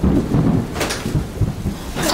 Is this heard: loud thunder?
yes